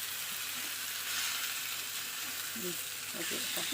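Marinated fish, coated in chilli powder and salt, frying in a pan at home, giving a steady close hiss and crackle with a few faint bubbling pops toward the end.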